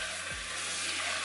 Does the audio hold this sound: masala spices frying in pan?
yes